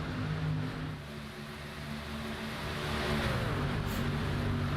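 An iRacing video-game race truck's engine roars at steady high revs, a dense continuous drone that swells slightly toward the end, with no voices over it.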